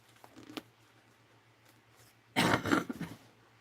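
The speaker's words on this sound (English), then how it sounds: "Excuse my coughing, I'm still not over that cough." A person coughs indoors amid a cluttered room during unpacking, a faint short throat sound first, then a loud, close burst of harsh coughing lasting about a second, surrounded by quiet.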